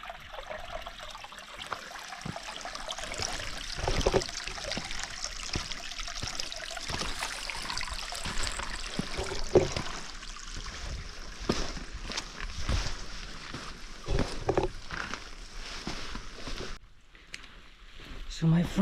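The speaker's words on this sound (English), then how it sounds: "there is a lot of water flowing in this valley" Water flowing through a stream in a rocky wadi valley on a hiking trail, a steady rushing trickle heard up close with people talking over it.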